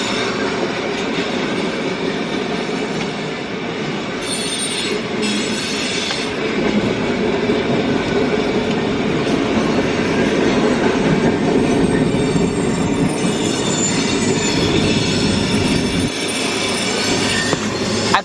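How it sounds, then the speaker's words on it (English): A train rolls past at close range for the whole stretch, a loud, steady rumble of wheels on rails with metallic squealing and clatter from the cars and no voices over it. "Like here, like the train is going right now. Here, I'll let you hear it."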